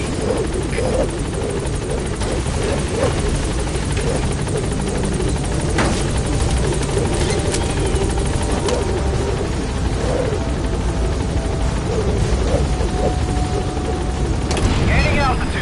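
Helicopter from Metal Gear Solid V: The Phantom Pain climbing away from a landing zone, a steady loud rotor drone and engine whine filling the whole stretch, with a voice talking over it.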